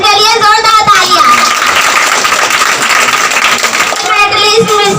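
Loud crowd applause greets a gold medalist at a prize distribution program for a competition. It swells for several seconds between stretches of someone speaking over a microphone.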